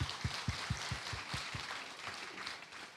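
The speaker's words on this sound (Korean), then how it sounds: "하나님께 영광의 박수 한번 올려드리겠습니다" A church congregation gives a round of applause during an Easter Sunday service, with a few distinct claps standing out at first before dissolving into a soft, distant, diffuse patter.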